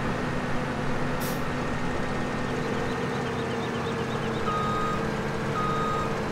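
A truck backing in within the Farming Simulator 2017 video game, a steady series of reversing beeps over a constant engine drone.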